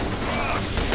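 Dense, loud gunfire and explosive booms in the shooter game The Bureau, a continuous wall of combat noise over about a second.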